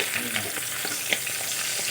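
Steadily hissing sizzle of parshe fish frying in hot mustard oil, with a few small pops and crackles scattered through, close by and without any talking.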